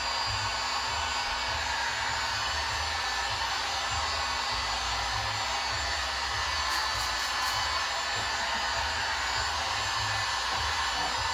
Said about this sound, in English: keep your heat gun back, and the trick to doing a vinyl wrap is never hold that heat gun still